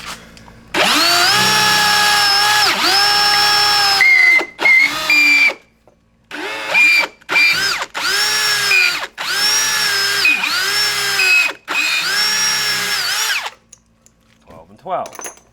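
A power drill boring mount holes for a solar panel on a roof runs in about eight close, loud bursts of whining spin, each a second or so long with short pauses between, speeding up and slowing at each start and stop.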